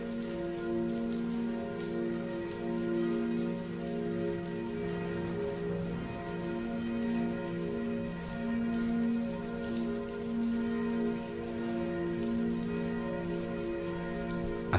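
Steady rain falls continuously, a dense even patter that stays at one level throughout, heard alone with a low sustained hum running underneath.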